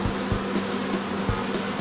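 A swarm of honeybees buzzing around a trailer and a beehive, a steady, close, dense drone with individual bees passing nearby.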